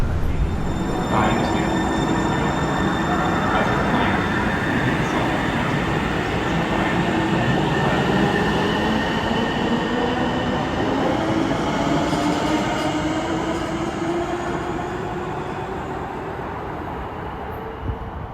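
A light rail train rumbles steadily across a floating bridge at close range, a broad continuous roar with faint wheel squeal and rattling over the transition spans, easing slightly toward the end.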